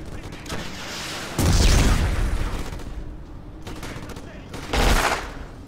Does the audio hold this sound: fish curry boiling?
no